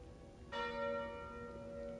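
A bell rings once from the Calling Bell relic in Slay the Spire, a clear struck tone that hangs and slowly decays against a quiet game background.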